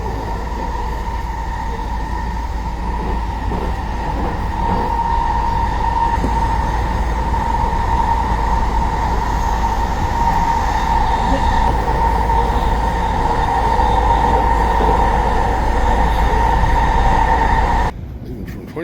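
A loud, steady diesel locomotive rumble with a droning tonal hum fills the clip, an SW 900 switcher in the lead, holding constant as it passes close by before cutting off abruptly near the end.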